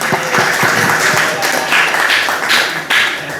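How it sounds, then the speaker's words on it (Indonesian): A group claps in a brisk, uneven patter that continues steadily for a few seconds, close and fairly loud. "Beri tepuk tangan."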